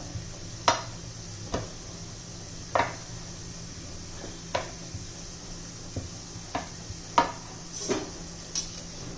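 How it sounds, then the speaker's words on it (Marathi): Puris deep-fry in hot oil for ladoos with a soft continuous sizzle, punctuated by regular sharp knocks of a utensil against the pan every second or so. "तर पहा ह्या प्रकारे मी आता सर्व पुऱ्या तळून घेते"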